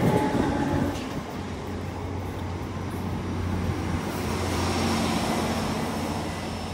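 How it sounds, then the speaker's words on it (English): A freight train passing through Cardiff Queen Street station, a continuous heavy rumble of wagons rolling by close up with faint clickety-clack, loud and steady throughout. "I think the next train you will see in this video will be that freight train"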